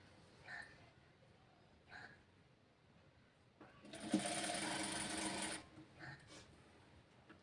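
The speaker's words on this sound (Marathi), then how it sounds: "आता आपल्याला इथे शिलाई मारून घ्यायची आहे" A sewing machine stitching a blouse lining, with a few short taps of the needle followed by one steady whirring run of about a second and a half, close and clear in a quiet room.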